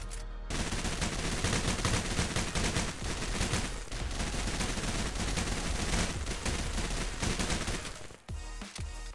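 An automatic weapon in the Roblox game Military Tycoon fires in a dense, relentless stream of shots, broken by a brief reload pause near the end before the shooting resumes.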